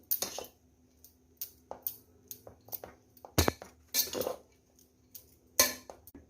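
Spoon clinks and scrapes against a pot as cooked chicken is mixed into chicken biryani: scattered, close metallic taps in irregular bursts with quiet gaps between them.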